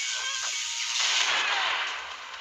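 Explosions from an animated fight between Batgirl and Spider-Gwen make a loud, continuous roar of noise that holds steady for a couple of seconds, then eases off slightly at the end, with no talking.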